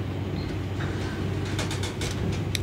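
Interior rumble of a moving train during a journey, a steady low drone with faint rattles and clicks, continuous and fairly loud.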